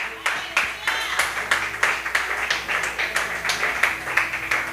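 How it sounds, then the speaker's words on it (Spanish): Church congregation clapping during an evening worship service, a steady rhythmic beat of sharp claps at roughly regular intervals, with a voice talking over the clapping. "¿Cuántos le dan palmas en esta noche?"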